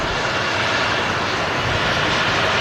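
Jet2 airliner engines roaring at Manchester Airport, a loud, steady broadband rumble that holds without a break.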